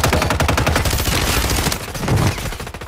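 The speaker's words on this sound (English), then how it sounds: "somebody's shooting at him from the roof" Rapid automatic gunfire in the video game Call of Duty Warzone, a loud, dense, steady burst of close shots rattling continuously for a few seconds.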